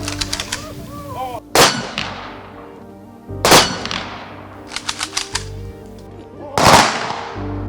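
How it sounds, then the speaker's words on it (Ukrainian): Three loud rifle volleys of a military funeral salute crack out in sequence, each ringing and echoing outdoors, with a quick scatter of smaller shots between them. "На честь полеглих захисників прозвучали останні військові салюти."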